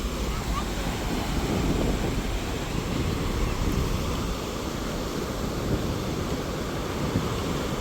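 Ocean surf rolling onto Vizag beach, a steady, dense roar of breaking waves mixed with gusty wind buffeting the microphone, continuous and fairly loud throughout with no distinct pauses.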